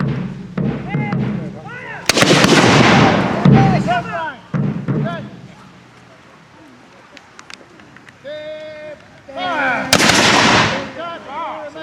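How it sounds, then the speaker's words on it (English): Battle video game muskets fire in massed volleys between parliamentarian and royalist lines, with several sharp, loud crashing bursts separated by gaps and scattered single shots, under a narrator's voice. "the parliamentarians firing in a salve with all their muskets"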